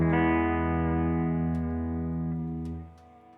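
A Chase Bliss Tonal Recall delay pedal set to sine-wave vibrato gives a sustained, pitch-wobbling tone with steady harmonics that swell and then trail off near the end, alone with no talk.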